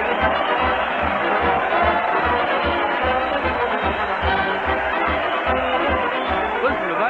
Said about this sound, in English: Listen to that crowd cheer Fred Allen as he leads his parade to the old Town Hall.